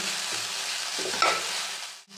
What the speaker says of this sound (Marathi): परत एकदा व्यवस्थित हे सर्व मिक्स करून घेते.